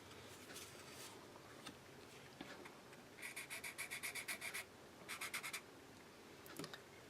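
Copic Sketch marker nib swatched on paper: faint, close scratchy strokes in quick rhythmic bursts, a few isolated scrapes then two clustered runs of rapid back-and-forth rubbing, no talk.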